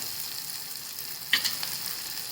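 A pan sizzles steadily as ingredients for a sandge vegetable curry are sautéed until soft, with one brief louder scrape of stirring partway through.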